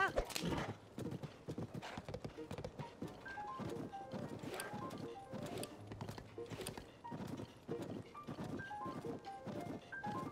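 Rhythmic hoofbeats of a galloping horse in The Legend of Zelda: Tears of the Kingdom with a whinny, game music notes and effects layered over the steady clip-clop.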